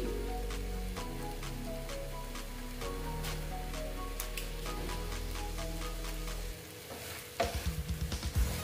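Dal posto, poppy seed lentils, sizzling steadily in a pan with faint crackles throughout and a few louder clinks near the end.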